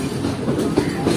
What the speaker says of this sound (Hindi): पूरे 5:45 पर ट्रेन अप्रोच कर रही है हाफिजाबाद रेलवे स्टेशन पर